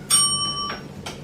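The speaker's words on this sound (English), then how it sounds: "the bell will ring like this" A bell rings once to mark elapsed speaking time in a school debate, a bright metallic ding that rings on, followed by a couple of softer taps, close and clear with no talking.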